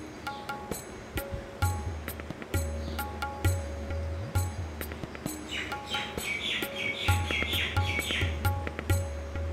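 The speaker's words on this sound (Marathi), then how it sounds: "येथील परिसर पक्ष्यांच्या किलबिलाटाने अगदी भरून गेला होता" Birds chirp and tweet around a 400-year-old temple in Maharashtra, with repeated short calls overlapping through a quiet outdoor space, joined midway by a busier cluster of higher twittering and a low intermittent hum beneath.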